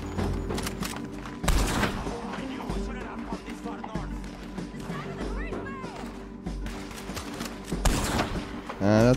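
Gunfire rings out in the video game Red Dead Redemption 2, several sharp shots and thuds amid busy game sound effects and someone talking over the action.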